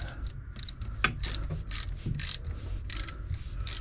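A ratcheting wrench snugs bolts on the raw water impeller housing of a Bayliner 3888 boat engine; a series of quick, close metallic ratchet clicks comes in short bursts, rhythmic and crisp, with no talk over it.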